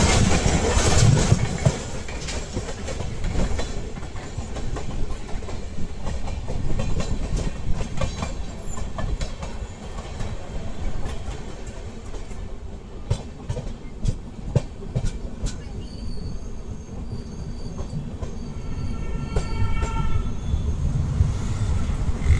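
The 12004 New Delhi–Lucknow Swarn Shatabdi Express runs on rails with a steady loud rumble and recurring clickety-clack of wheels over joints, continuing without a break.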